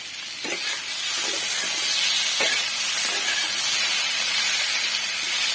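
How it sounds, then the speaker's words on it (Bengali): Spiny gourd (kakrol) frying in hot oil in a pan gives a steady, fairly loud sizzle and hiss with a few soft stirring knocks, no voices. "ভেজে নেব"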